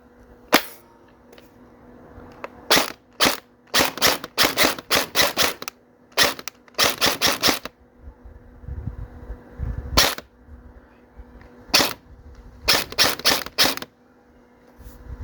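An MP5SD gel blaster from M416 fires in sharp, close snapping shots, single pops and rapid bursts of several rounds separated by short pauses, with a faint motor hum between.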